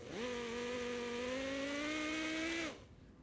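A paint mixer spins 2-pack paint in the tin with a steady whirring motor hum that ramps up, holds at an even, slightly rising pitch for a couple of seconds, then cuts out abruptly.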